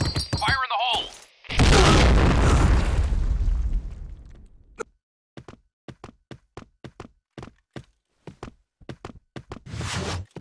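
Grenade explosion in the shooter game Point Blank: a brief radio-style voice line, then a loud booming blast that rumbles for a couple of seconds, followed by a series of sharp footstep-like clicks.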